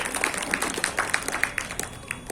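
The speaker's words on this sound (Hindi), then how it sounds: "तो एक बार आप सबके लिए ताली हो जाए" An audience at a Holi gathering with a poetry recital claps together, a steady patter of many hands that goes on throughout.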